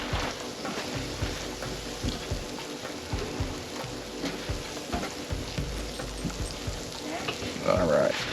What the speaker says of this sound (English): the griddle's still hot. I'm gonna throw just a little bit of butter on here